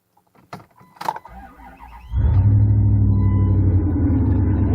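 A 1998 Dodge Durango with a 5.9 V8, no muffler and only a catalytic converter, cranks after a few clicks and fires into a loud, deep, rumbling idle close by.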